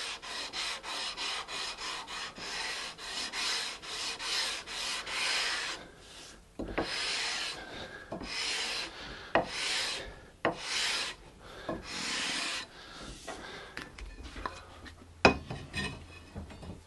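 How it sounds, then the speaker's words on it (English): Guitar frets being sanded with sandpaper during a re-fret: a fast run of rapid rasping strokes, then slower single scrapes with small knocks and taps, all close and fairly quiet. "last passes was with the wrong sandpaper"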